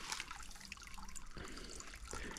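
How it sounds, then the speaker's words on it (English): Fresh water trickles and splashes beside a hiking trail in the woods, a faint, continuous babbling with small gurgling variations. "I'm gonna go ahead and fill my water bottle up here"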